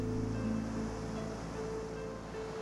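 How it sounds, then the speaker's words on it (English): A babbling brook, the Rhondda stream in a restored South Wales valley, flows with a steady, unbroken watery rush that stays close and fairly loud throughout. "the babbling brook."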